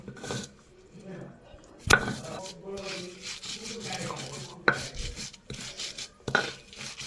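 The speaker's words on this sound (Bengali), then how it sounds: "বেটে চাটনি করছি। রসুন দিয়েছি, আদা দিয়েছি, পেঁয়াজ সব কিছু দিয়েছি।" Garlic, ginger, onion and chili are ground into chutney on a grinding stone, making rough scraping strokes broken by several sharp knocks of stone on stone, close up.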